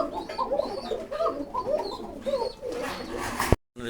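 Pigeons at a farm coo in a steady run of soft, throaty rolling calls, close and fairly loud with no talk, ending in a sharp knock and a brief cutoff.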